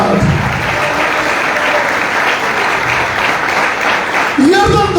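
A church congregation at a Palm Sunday service claps together in loud, sustained applause that fills the room evenly, with a voice speaking over it near the start and again at the very end.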